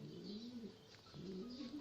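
Young pigeon squabs on a balcony give soft, low, repeated cooing calls, faint and gently rising and falling, with no one speaking.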